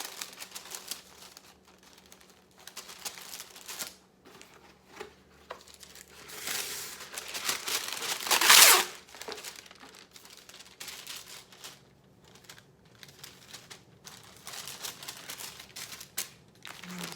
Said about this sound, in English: I'm just going to take a piece of wax paper, put that in between each one so that once they're frozen they don't stick together